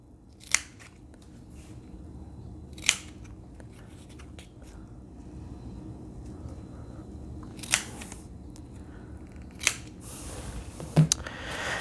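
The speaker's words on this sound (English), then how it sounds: "Get your nice Kinesio scissors and we're going to cut a couple little wedges in here." Scissors snip kinesio tape in a few sharp, separate cuts spaced seconds apart, close up over a quiet background hum.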